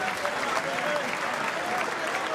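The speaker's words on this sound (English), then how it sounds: "may we have another round of applause for both finalists" Audience at the 2025 Masters snooker final applauding the finalists after Shaun Murphy's win, steady dense clapping filling the hall throughout with a faint voice underneath.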